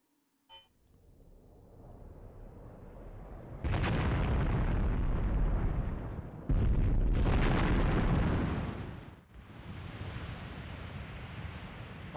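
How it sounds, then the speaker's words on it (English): Mortar shells landing in Graviteam Tactics Mius Front, a sharp pop followed by heavy rolling explosions and long rumbling roars that swell, cut off and return, loud and broad over a steady low background. "All right, our mortars are going to begin falling."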